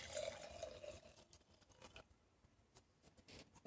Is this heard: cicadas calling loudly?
no